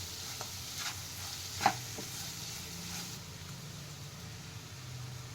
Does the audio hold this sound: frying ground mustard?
yes